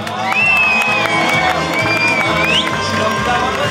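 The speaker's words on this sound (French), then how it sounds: "On peut les applaudir bien fort." Wedding guests at a reception at Fortin de Corbières cheer and whoop after the cake cutting, a loud crowd roar that carries steadily throughout, with a rising whistle or shout partway through and scattered voices mixed in.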